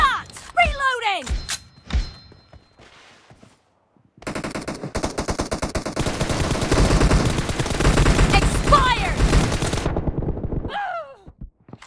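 M416 rifle fire in the mobile game PUBG Mobile rattles in a long, rapid automatic burst after some scattered shots, loud and dense, with a player's voice talking before and after.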